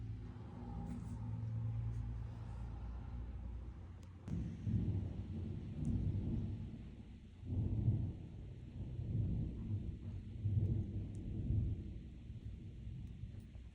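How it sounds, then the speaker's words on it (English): Thunder during a rainstorm, a low, rolling rumble that swells and fades in long waves, distant and muffled under a steady faint hiss of rain, with no talking. "Do you guys hear the thunder?"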